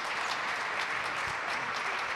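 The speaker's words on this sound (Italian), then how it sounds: "Viene applaudito anche l'incaricato all'asciugatura del parquet" Sustained applause from a crowd in an indoor sports hall during a futsal match, steady and fairly loud, with dense clapping filling the whole moment.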